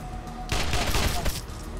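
Burst of gunfire from a Wasteland 2 turn-based combat encounter, a dense rattling volley lasting under a second, loud and alone.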